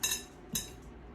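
A fork cuts butter into buttermilk biscuit dough in a bowl, giving two short light clinks about half a second apart, faint and with no talking.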